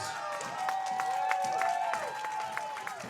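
Crowd at a college field hockey game, Ohio Bobcats versus Indiana Hoosiers, cheering and clapping after an Ohio goal, with rhythmic repeated whistle-like tones and crowd noise at moderate volume.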